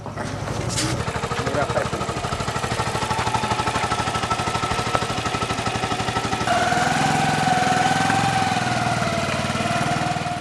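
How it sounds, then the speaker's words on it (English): A motorbike carrying a woman and a traditional birth attendant runs with a steady mid-pitched engine drone, and the engine note shifts partway through. A voice talks over it throughout. "traditional birth attendant accompanies the woman on the motorbike"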